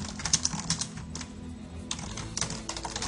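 Steady typing on a computer keyboard, entering watermark text in photo-editing software; quick, close key clicks run in bursts with a short pause in the middle.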